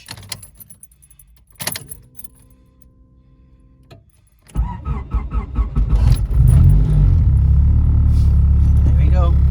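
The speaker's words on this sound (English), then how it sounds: "Let's see if she'll start off." A Honda Civic with an engine swap fails to start on the first attempt, then catches on the second: keys rattle, a brief starter crank stops, and after a pause the engine turns over and settles into a loud, close idle rumble.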